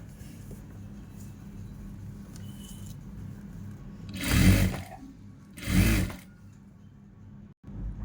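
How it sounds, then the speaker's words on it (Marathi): A sewing machine stitching piping runs in two short bursts of motor whir a second or so apart, close and fairly loud over a quiet background hum. "अशा पद्धतीने पूर्ण शिवून घ्यायचं"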